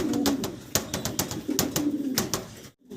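White Danish pigeons, a male and female pair, coo in short repeated bursts close by, with a soft rhythmic throaty pulse and brief sharp sounds between calls, before a sudden short pause at the end.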